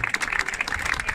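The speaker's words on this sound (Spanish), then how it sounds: "yo pido un aplauso para él" A short burst of crowd applause breaks out at a golf pro-am gathering in Antequera for course designer José María Cañizares, with dense, even clapping from many hands close by.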